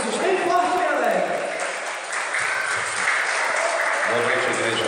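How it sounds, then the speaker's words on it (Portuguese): A church congregation at a Friday evening service applauds loudly and continuously, sustained clapping layered with a voice talking over it. "vamos receber o ministro José Maria com as palmas bem fortes para Jesus, bem forte, bem alegre."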